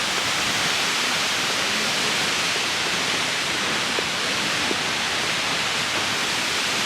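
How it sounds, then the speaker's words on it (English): Roaring waterfall in Iceland during heavy rain, a loud, steady broadband rush of falling water that fills the whole clip without letup. "this waterfall is insane"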